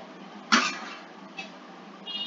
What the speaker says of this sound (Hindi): पता चल रहा कि खांसी है